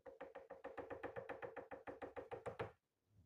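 Knuckles knock on a wall in a quick, even run of about seventeen close, crisp knocks that stop abruptly, followed by brief quiet.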